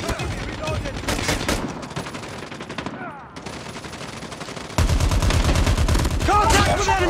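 Rapid automatic gunfire from a deployed sentry gun in Call of Duty Mobile, a dense rattling burst that carries on throughout, briefly dipping, then returning louder and closer, with other game sounds mixed in.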